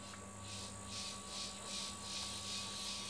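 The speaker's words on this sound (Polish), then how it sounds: "I cykady słychać." Cicadas chirp in a steady pulsing drone on a warm summer evening in a backyard by a small pool, fairly distant and continuous with no talking.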